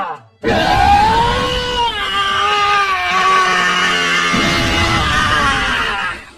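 The anime character Vegeta lets out a long, sustained, strained scream as he powers up toward Ultra Ego. It is loud and close and holds at high intensity for several seconds before it trails off.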